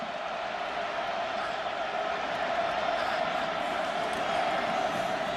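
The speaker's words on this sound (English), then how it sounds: "the midshipmen have a chance to cheer" A midshipmen crowd cheers in the stands at the Army-Navy football game, a broad, continuous roar of distant voices filling the stadium.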